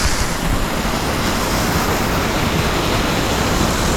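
A rain-swollen waterfall in a wooded glen roars as a loud, steady broadband rush that never lets up, with no voices.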